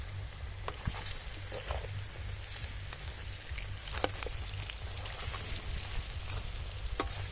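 Mustard flower fritters fry in hot oil in a pan, a faint, steady sizzle with scattered small pops and crackles and no talking.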